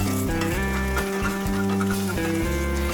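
Bánh xèo, a Vietnamese sizzling crepe, cooks in a pan with a steady hiss that runs under prominent tonal music throughout.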